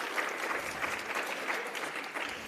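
Conference plenary audience breaks into a round of applause, dense even clapping from many hands that stays strong and continuous for a few seconds without any talk.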